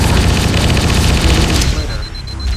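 Loud, dense bursts of automatic gunfire crackle in Halo Combat Evolved, building into a heavy booming burst like a frag grenade before dying off into a faint ringing tail.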